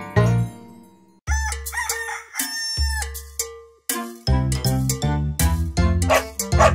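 A rooster's cock-a-doodle-doo rings out in a children's farm-animal song, a loud, bright crow repeated several times in a bouncy rhythm over cheerful backing music, apparently voiced or synthesized to imitate the bird rather than a real rooster.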